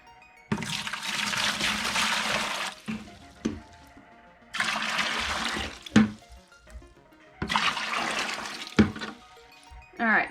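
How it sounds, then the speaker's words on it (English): Aquarium canister filter parts from a Fluval 305 being rinsed under running water, heard as three loud bursts of gushing, splashing water a few seconds each, separated by quieter pauses with faint handling clunks. "we're just gonna continue rinsing all these filters some more to get them as clean as possible"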